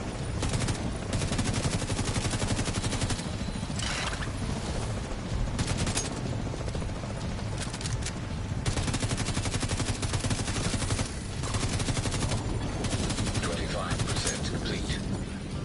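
Sustained automatic gunfire in The Division 2 during a hotel mission on Challenging, dense loud bursts with brief pauses and mechanical clatter, voices talking underneath.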